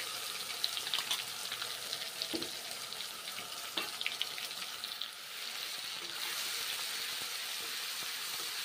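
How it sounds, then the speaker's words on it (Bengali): Spice paste frying and being stirred in a pan for a raw plantain dish, a soft crackling sizzle with scattered clicks of the spatula early on, then a steadier hiss like running water, fairly faint, no talking. "এখন মশলা ভেজে নিচ্ছি, কষে নেব মশলা ভালো করে।"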